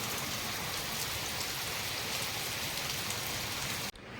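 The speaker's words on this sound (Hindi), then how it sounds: "देखो वर्षा होछि" Steady, dense rain falls at night in a village, a continuous close hiss of drops on surfaces with no voices, cutting off abruptly near the end.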